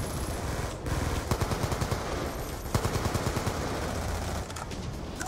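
Rapid automatic rifle fire from an AN-94 in the video game Black Ops 2, with dense bursts of close, loud shots crackling on for several seconds amid steady game background noise.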